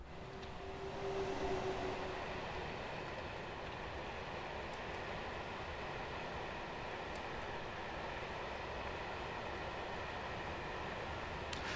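A DB Schenker freight train in Train Sim World 4 powers up with a steady, dense rumble and hum of the locomotive and wagons, holding at an even level throughout with a faint rising tone near the start.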